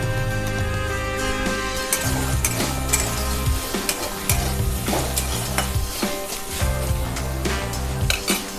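Cabbage and soybean being fried and stirred in a pan, loud continuous sizzling with repeated scraping and clattering strokes of a spatula against the metal, close up.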